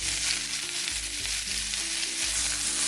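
Keto Philly cheesesteak quesadilla frying in a pan, a steady close sizzle with a broad hiss and faint low thumps and scrapes, no talking.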